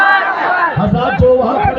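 A crowd at a religious gathering roars back in unison in response to a Nara-e-Takbir chant, a loud mass of voices swelling and holding briefly.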